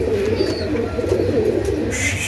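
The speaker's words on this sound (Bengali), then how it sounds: "এখানে নানা পদের কবুতর আছে, নানা পদের।" Pigeons coo in a loft where many breeds are kept, a close, continuous low rolling murmur of overlapping calls with faint higher chirps near the end.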